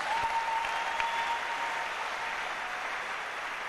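A church congregation applauds the Lord in a sustained, even wash of clapping, moderately loud and continuous, with a thin steady whistle-like tone running through the first half.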